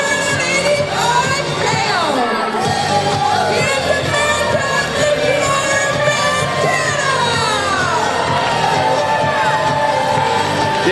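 Wrestling fans cheer steadily for the wrestler Fantana, a dense, loud crowd roar with rising whoops and yells sliding up and down throughout, no clear words standing out.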